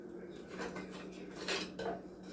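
A cooking pan is tilted and moved to spread oil across it, giving a few soft metallic scrapes and clinks close by, with a low steady hum underneath.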